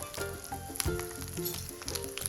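Cumin, asafoetida and two red chillies crackle and sizzle in hot desi ghee for a tadka for kadhi pakora, a steady close spitting fry with brief pops and a faint tonal hum in the background, no talk.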